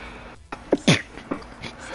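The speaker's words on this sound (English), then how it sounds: "about to sneeze" A single sharp human sneeze, heard close and fairly loud. A short intake of breath comes before it, and low room noise runs underneath.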